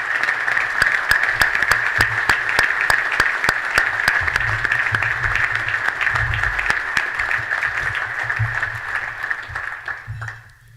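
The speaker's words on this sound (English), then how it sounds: "Men, can you please offer a round of applause for all of the women in the room today?" Sustained applause from a breakfast program audience as men clap for the women in the room, steady and full for about ten seconds before tapering off at the end.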